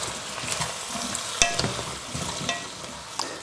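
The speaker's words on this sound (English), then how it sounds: "Just put the potatoes in there, because we're going to give it all a mix around" Potatoes stirred through melted butter and oil in a pan for leek and potato soup, giving a soft continuous sizzle with scraping stir strokes and a few sharper clinks, no talk.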